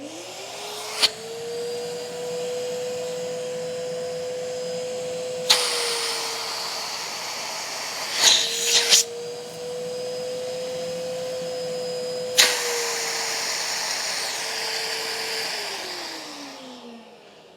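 Hoover Windtunnel S3641 canister vacuum cleaner fitted with a makeshift hose adapter runs with a steady whining drone, its pitch sagging and recovering as the airflow is blocked and released, with sharp clunks and hiss bursts in between.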